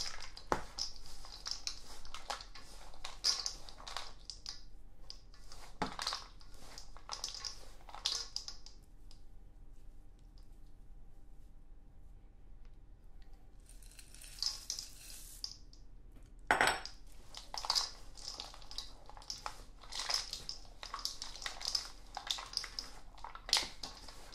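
Chocolate chip cookie dough stirred by hand in a bowl, no mixer, giving repeated scraping and clacking strokes of utensil against the bowl in steady bursts, with a short pause partway through.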